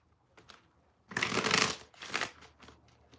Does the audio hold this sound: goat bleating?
no